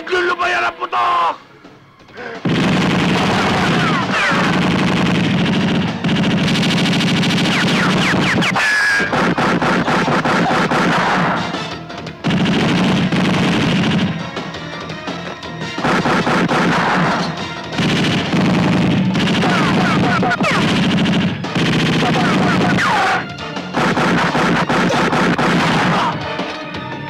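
Gunfire in a Filipino action film, with loud bursts of rapid automatic fire and heavy shots in repeated volleys separated by brief pauses, and shouting voices mixed in between.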